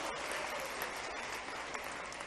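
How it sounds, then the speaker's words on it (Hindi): Audience at a public event with the chief minister applauds to welcome the power minister, producing a brief, even burst of dense clapping that holds steady across the whole short stretch. "एक बार तालियां बजा के उनका स्वागत कीजिए"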